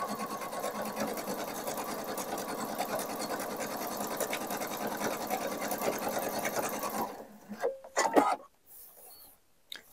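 A sewing machine fitted with a 4 mm twin needle runs steadily with a fast, even stitching rattle for about seven seconds, then stops, leaving a few soft handling clicks.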